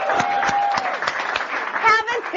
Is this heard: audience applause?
yes